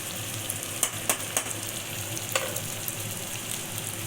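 Tomatoes with salt sauté in a hot pan while a grandmother cooks a Tamil fish curry, a steady sizzle broken by several sharp stirring clicks and scrapes.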